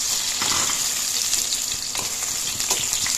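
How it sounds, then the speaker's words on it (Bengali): Cumin seeds fry in hot oil in a wok, a steady close crackling sizzle with a few sharper pops and faint stirring clicks, no voices. "ইতিমধ্যে কেৰাহীটো তেল গৰম হ'বলৈ দিছোঁ এতিয়া ইয়াত জিকাখিনি দি ল'ম"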